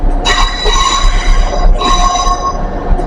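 A model railway train runs past close by, giving a loud, steady rolling rumble with bright metallic wheel squeal in two drawn-out surges. No one speaks.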